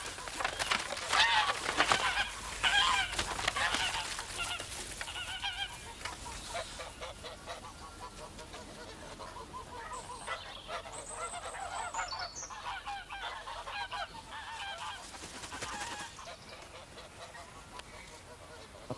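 Geese honk and hiss in a yard, a loud cluster of calls at the start easing into steadier, softer honking and chatter from the flock throughout.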